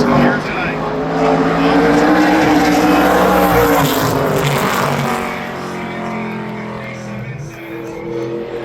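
An ARCA Menards Series race car runs a qualifying lap at Berlin Raceway, its engine roaring steadily and then dropping away as it passes, with an announcer talking throughout.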